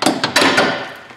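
A hammer striking to free a bolt on a Ford Ranger's rear shock mount, a few quick sharp metallic taps in succession with a brief ringing decay, close and loud.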